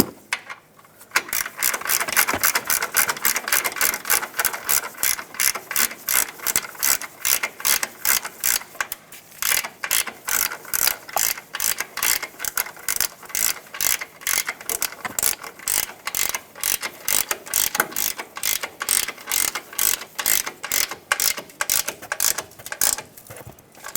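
A ratchet tightens strut bolts on a 2009-2014 Ford F-150 suspension during a leveling kit install, a long run of loud, rapid clicking strokes in steady bursts with brief pauses between them.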